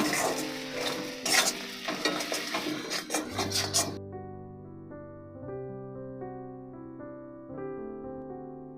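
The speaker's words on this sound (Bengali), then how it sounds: "সব মশলাগুলো একসঙ্গে সুন্দর করে মিশিয়ে নেব" Dry spices (salt, turmeric, Kashmiri chilli powder) being stirred into prawns in a pan for doi chingri, with scraping and sizzling for about four seconds before a musical tone takes over.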